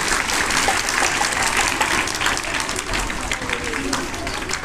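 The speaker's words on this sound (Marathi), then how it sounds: "जोरदार टाळ्या होऊ देत." Students at a Sant Gadge Baba speech competition at Godavari Public School get a long burst of loud, steady applause from the audience, dense clapping that fills the whole stretch with a faint crowd murmur underneath.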